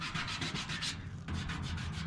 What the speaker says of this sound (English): Give her a little spit and a little scrub, and look, basically refinished.